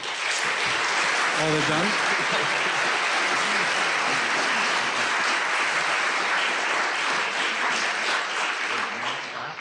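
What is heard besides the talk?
audience applause for the debaters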